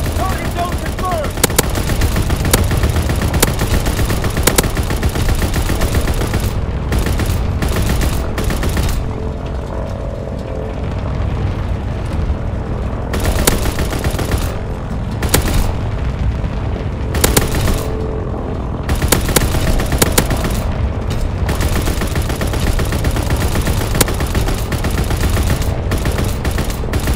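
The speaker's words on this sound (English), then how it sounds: "Anti-aircraft salvo commenced." Anti-aircraft salvo in Call of Duty WWII, sustained machine-gun and cannon fire with bursts of booms, loud and dense across the whole stretch with brief lulls, a voice briefly speaking amid the gunfire.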